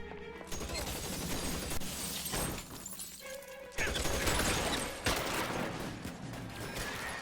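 Shotgun blasts and shattering in the game L.A. Noire, dense and loud throughout, with heavy booms, breaking glass and clattering debris layered over a continuous action soundtrack.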